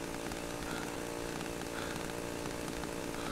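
A chainsaw in the horror video game Cry of Fear, a steady buzzing motor drone running continuously at moderate loudness with no voices over it.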